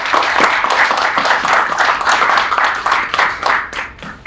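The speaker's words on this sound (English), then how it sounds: "round of applause everyone for Jessica" Audience members at a Miami day-trading meetup give a speaker a round of applause, distinct claps packed into a lively, rhythmic wash that stays strong before tapering toward the end.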